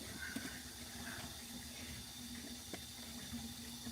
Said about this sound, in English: I'm just gonna put some water in the pot.